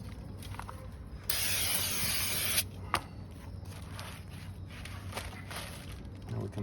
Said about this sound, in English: I'm gonna clean off any oil of this brand new rotor with some brake cleaner, which dries pretty fast.